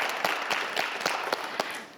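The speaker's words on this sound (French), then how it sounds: "On peut les applaudir bien fort." Audience applause at a Christmas quiz show, faint clapping with a handful of distinct claps punctuating a soft background patter.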